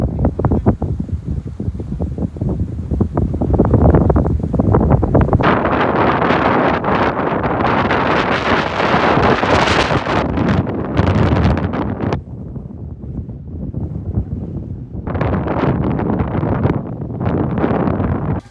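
A strong, storm-force wind sweeps the Vagamon hills during steady rain. It roars and buffets the microphone in long loud gusts, with brief lulls in between and a voice faintly underneath.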